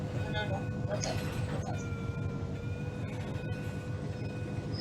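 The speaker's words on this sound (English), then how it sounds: "There goes the train turning around." A diesel freight train in the Trainz TANE game rumbles steadily as it turns around, with faint wheel squeals and clicks over a constant low drone.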